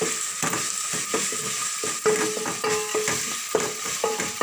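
A paste of ground spices and dried coconut sizzles in a pan for biryani, with a spoon scraping and stirring it in repeated strokes, close and steady, with no talk.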